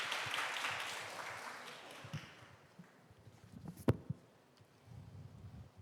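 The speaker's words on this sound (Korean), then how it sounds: "우리 박정수 학생도 다시 한번 큰 박수 부탁드립니다" Applause from a symposium audience welcoming a student speaker, a dense broadband wash of clapping that fades steadily over the first couple of seconds, leaving quiet room noise with scattered thumps and a sharp knock.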